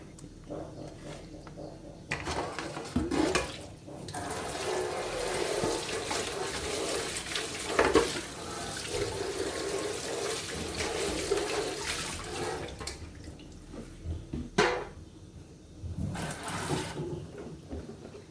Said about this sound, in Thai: เอกก็ล้างมือเรียบร้อยแล้ว